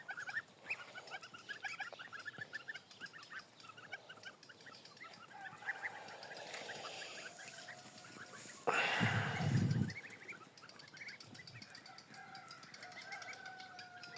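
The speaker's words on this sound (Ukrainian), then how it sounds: "Це у нас тут каченятка, гусенятка," A busy farmyard of young ducks and geese peeping and calling continuously, with a louder burst of honking and rustling partway through.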